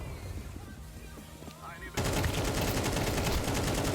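AK rifle firing in Counter-Strike: after a quieter stretch, sustained loud automatic bursts erupt and continue steadily to the end, close and dense.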